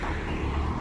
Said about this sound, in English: Noisy cars, isn't it?